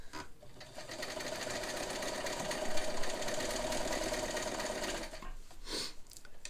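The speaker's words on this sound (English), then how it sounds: "So coming behind the machine, getting it in proper shape to start sewing." Restored Kenmore 158.1752 sewing machine stitching, a steady fast mechanical whir with rhythmic needle knocking, close and alone, pausing briefly near the end.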